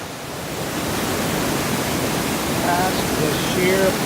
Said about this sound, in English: The sheer power of this, man. This is lots of water.